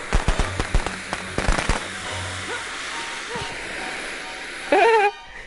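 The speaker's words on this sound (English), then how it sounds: "firework." Fireworks and firecrackers going off outdoors, a quick volley of sharp bangs and crackles early on, then fainter scattered pops, with a voice briefly heard.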